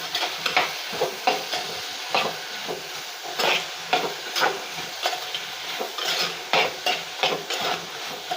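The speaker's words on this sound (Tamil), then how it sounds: "எல்லாத்தையும் போட்டு நல்லா வதக்கி விட்டுக்கோங்க." Onion and tomato sautéing in a pan for village-style Kerala fish curry, with a continuous sizzle and repeated scraping stirs at a quick, regular pace, close up.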